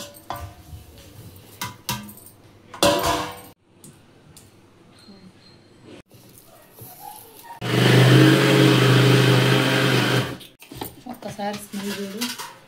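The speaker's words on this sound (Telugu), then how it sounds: "ఇంకా మిక్సీ వేసుకుంది" Mixer grinder whirs loudly for about three seconds, grinding black sesame seeds and jaggery for laddus, between stretches of talk and clattering kitchen handling sounds.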